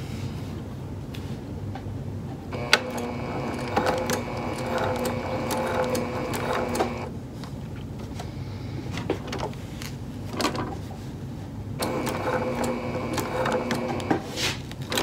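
A sewing machine runs slowly at top-stitch length along a handbag seam, two stretches of rapid mechanical stitching separated by a quiet pause, close and clear with no talking.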